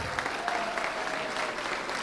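An audience at a brass band contest results ceremony applauds the soloists with a steady, full round of clapping from many hands throughout the clip.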